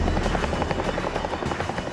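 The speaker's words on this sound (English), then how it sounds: "Roberts' colleagues have been picked up by another Chinook and are on their way back" A Chinook helicopter flies overhead with a loud, steady rotor chop and turbine drone, continuous and close, filling the scene with no talking.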